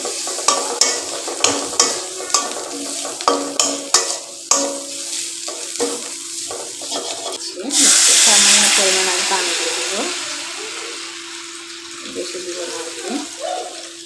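Turmeric powder sautéing in hot oil in a pan for a mixed-vegetable fish curry, opening with a run of sharp spoon scrapes and taps, then a loud sudden sizzle that slowly fades under a steady hum.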